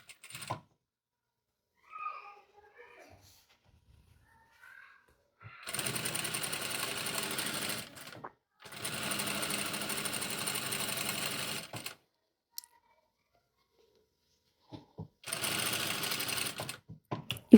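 A sewing machine stitches the seam of a tank top in three long, rapid mechanical bursts separated by pauses, close and clattering, with faint handling sounds in the quiet gaps.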